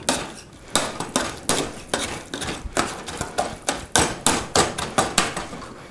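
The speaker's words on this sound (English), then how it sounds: "Keep on mashing" Steady rhythmic thuds of a masher pressing into soft cooked turnips in a pot, about two strikes per second, close and fairly loud.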